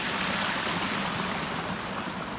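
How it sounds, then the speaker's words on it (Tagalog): A canal filled to the brim with water flows steadily, a constant broad rushing and gurgling wash that stays even and fairly loud throughout. "Punong-puno po ang uh, kanal."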